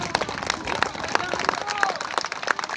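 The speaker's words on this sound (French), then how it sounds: "on peut applaudir l'ensemble des partenaires" Scattered clapping from a small crowd applauding event partners, with a bright whistle-like tone gliding through and chatter blending underneath.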